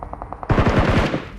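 Gunfire in PUBG, a few faint distant shots followed by a loud, close burst of rapid automatic fire, roughly eight quick shots in under a second.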